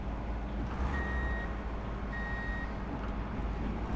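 A truck in Truck and Logistics Simulator idles with a steady low engine rumble while two high reversing beeps sound in succession, close and even, with no talking.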